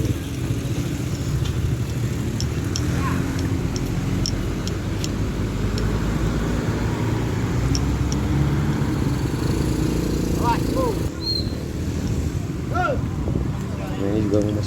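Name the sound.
traffic jam, cars and motorcycles on road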